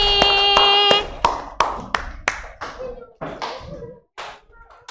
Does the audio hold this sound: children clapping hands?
yes